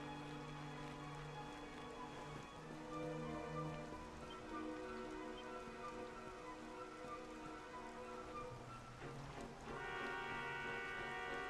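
Steady rain falls in the video game Dragon Quest XI while a character climbs a vine up a mountain, a constant even patter heard alone over sustained tonal game music.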